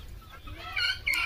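Local chickens on a poultry farm cluck a few times in quick succession, close by and fairly clear over a low background rumble.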